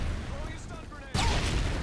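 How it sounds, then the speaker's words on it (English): A stun grenade goes off in Call of Duty: Modern Warfare 2, a sudden loud burst of noise that cuts in and holds, following a moment of background voices and game ambience. "Throwing a stun grenade."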